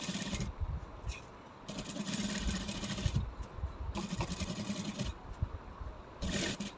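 A sewing machine stitches along a garment lining in several loud, rapid bursts, pausing briefly between runs, close up with no talking.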